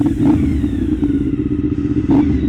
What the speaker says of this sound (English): At least the bike sounds nice